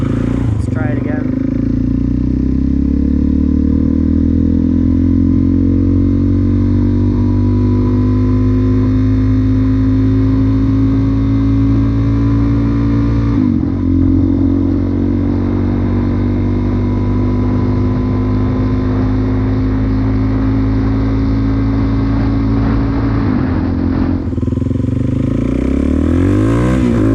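A Suzuki DRZ400S single-cylinder dual-sport motorcycle cruises at mid to high revs on half throttle, its engine a steady, loud, droning buzz that rises slightly in pitch, with brief dips where gears shift.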